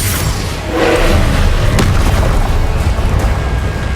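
A Confringo explosive spell in Hogwarts Legacy lands with a deep boom that swells after a moment, then a sharp burst and a thudding rumble that rolls on to the end.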